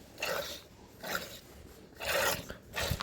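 Rhythmic bursts of milk squirting as a buffalo is hand-milked, four strokes in a row, each a short rasping hiss with quieter gaps between, close by and without talk.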